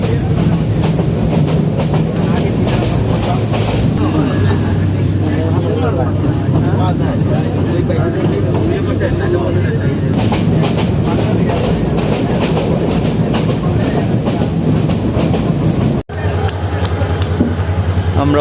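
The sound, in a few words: passenger train (Titas) running on rails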